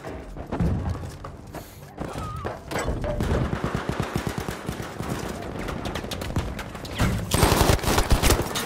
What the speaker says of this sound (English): The FG42 is the god gun.